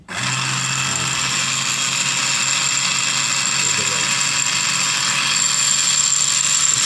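A small 5-volt mini grinder whirs at a steady high pitch after switching on, running continuously and noisily close to the mic.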